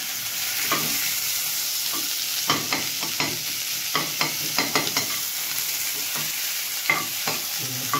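Chopped onion and green chili fry in a pan, a steady sizzle punctuated by repeated sharp scraping and tapping of a stirring spoon at an irregular rhythm, close and unaccompanied by talk.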